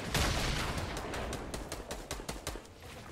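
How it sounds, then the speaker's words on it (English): Rapid bursts of gunfire in the Fortnite video game, a dense volley at the start followed by a string of sharp separate shots, loud and close with no talking. "Oh shoot, I'm getting shot."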